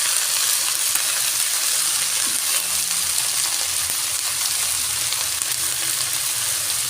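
Fresh leafy greens sizzle and fry steadily in a hot pan with green chilli, a continuous close hiss of oil and moisture without pauses.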